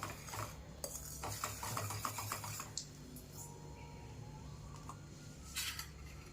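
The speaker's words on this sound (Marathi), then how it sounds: "सगळं मिश्रण मी इथं हे कढईमध्ये टाकून घेतलं आहे चांगलं मिक्स करायचं" A utensil scrapes and clinks against a kadai (wok) while stirring batter in irregular strokes, quiet and close, with steady low background hum.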